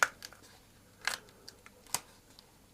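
Scissors snip through paper in a quiet indoor setting: a few faint, sharp, separate cutting clicks spaced irregularly, with near-silence between them.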